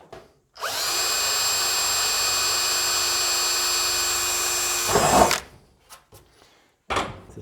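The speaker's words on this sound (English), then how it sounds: "and then drill the other 2 holes." A power drill bores holes in a WW2 Willys Jeep during restoration, running at a steady high whine for about four and a half seconds and then cutting off, followed by a few short clunks and taps.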